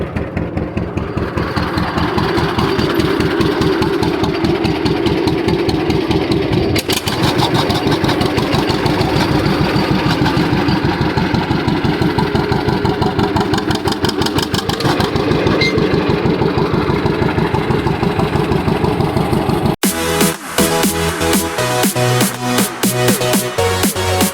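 An old John Deere A tractor runs after a carburetor adjustment, its engine chugging loudly and steadily up close with a rapid, even beat for about twenty seconds before the sound abruptly changes character.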